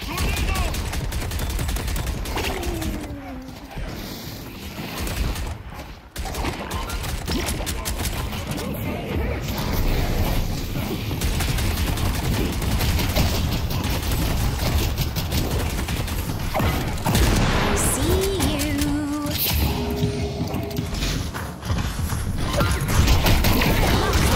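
Rapid gunfire from the Deadlock video game as Vindicta, continuous bursts of shots and mechanical clicks layered with game effects, loud and sustained throughout, with occasional talk over the action.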